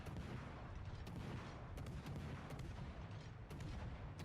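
Naval guns from warships in World of Warships Legends fire as a series of distant booming shots spaced about half a second to a second apart, over a low rumbling game soundscape, fairly quiet overall with no voices.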